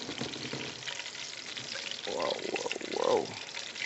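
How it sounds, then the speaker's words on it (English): Chicken stew is stirred in a hot pot, with a close, bubbling sizzle and wet scraping under a low murmur of talk, plus a couple of brief louder voiced exclamations near the end. "you're gonna stir this properly"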